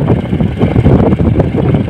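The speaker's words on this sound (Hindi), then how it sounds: "तेज़ हवाएं चल रही है, सनन सनन" Strong wind roars steadily across a microphone at night on a motorbike ride through a deserted forest road in Rajasthan, a constant loud buffeting rumble with no pauses and no voices.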